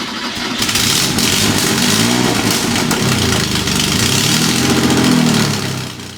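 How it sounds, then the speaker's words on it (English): Porsche 930 Turbo with a badly holed exhaust, roaring loud and raspy at close range, a steady engine drone with rising and falling revs throughout and no voices. "The car sounds a bit like a Cessna on takeoff."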